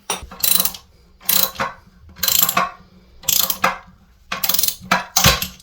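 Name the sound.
wrench tightening toilet seat bolt until it snaps off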